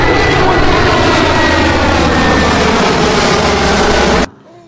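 A toy airplane's engine drone plays loud and steady, a continuous buzzing whir that cuts off abruptly near the end, leaving faint room noise.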